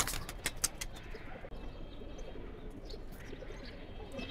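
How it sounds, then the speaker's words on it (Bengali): Pigeons, among them a red-brown-necked bird, coo softly at a distance, with a few sharper chirps and wing sounds early on over a quiet background. "এটা হচ্ছে একটা লাল খয়রা গলা কবুতর"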